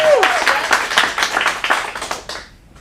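An audience at a teen acting studio showcase applauds for a performer: close, lively clapping from a modest crowd with distinct hand slaps, starting right after a brief voice and fading out over about two and a half seconds.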